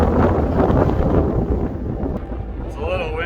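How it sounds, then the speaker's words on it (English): Strong wind buffets the microphone outdoors on a desert stretch of the Continental Divide trail, a loud continuous roar with rumbling gusts, while a person speaks faintly underneath near the end. "It's a little windy out here."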